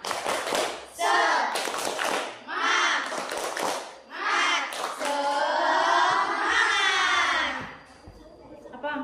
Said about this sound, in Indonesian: Bagaimana kalau kita tepuk-tepuk dahulu biar tetap semangat, ya? Tepuk semangat.